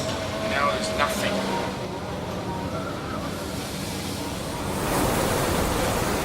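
Storm waves crash and surge around a fishing boat at sea at night, a continuous loud roar of water and wind with a brief muffled voice early on.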